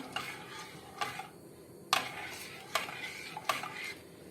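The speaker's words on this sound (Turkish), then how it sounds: "sütümüzü de kaynayana kadar karıştırarak süt kaynayana kadar devam ediyoruz karıştırmaya arkadaşlar" Milk stirred in a pot on the stove for a Turkish milk pudding, with a spoon scraping and knocking against the pot in a few distinct strokes about a second apart over a soft background hiss.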